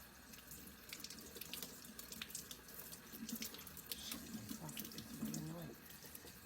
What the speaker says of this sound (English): So you want to take it under the water.